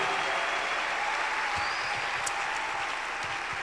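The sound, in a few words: congregation clapping hands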